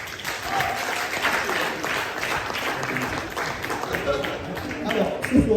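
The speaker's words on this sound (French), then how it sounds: "Tenez un applaudissement pour Kevin." An audience at a talent night applauds with continuous, moderately loud clapping, with voices mixed in toward the end.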